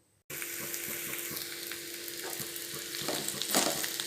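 Onions, green chillies, fenugreek leaves, spring onion greens and coriander frying in a hot tempering for potato fry. A loud, steady sizzle starts abruptly and keeps crackling close by, with faint stirring.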